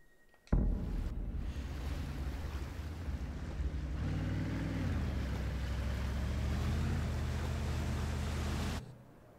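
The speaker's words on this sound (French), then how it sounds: "Ça arrive de temps en temps avec les bateaux. Ça bug un petit peu" A boat's engine and water noise from the video game Sleeping Dogs, glitching into a steady, loud wash of rumbling sound that starts abruptly and cuts off just as suddenly, with no one speaking.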